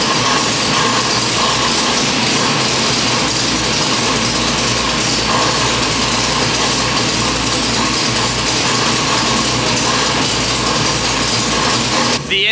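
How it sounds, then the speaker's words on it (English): A 363-cubic-inch small block Ford V8 on a dyno runs steadily at high idle throughout, a dense mechanical roar with constant rhythmic clatter and no speech. "The engine is fully warmed up and at operating temperature, so I'm gonna shut it down"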